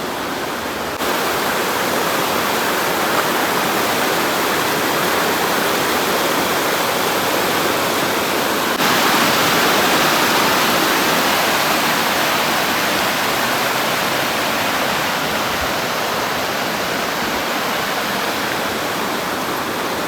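Bogatha waterfall roars in a loud, steady, broadband rush that holds unbroken for twenty seconds, close and dense with no voices over it.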